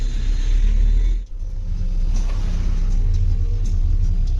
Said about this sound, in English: So we are stuck in this traffic like for half an hour.